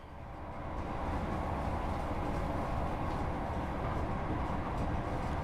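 A Class 158 diesel multiple unit on a Scotrail route in Train Sim World accelerates gently, with a steady broad engine and rail rumble that holds at an even level and has no talk.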